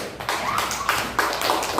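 Classroom applause for a student group, a dense, steady patter of many hands clapping together for about two seconds, with a few stronger bursts.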